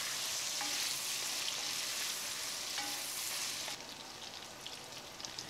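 Red grouse stew ingredients with black pepper frying in a pot, a steady close sizzle that drops slightly quieter partway through, with a few faint clinks.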